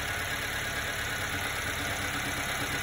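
Subaru Sambar engine idling after a carburetor idle adjustment, a steady, even low drone with a faint high whine, close and constant throughout.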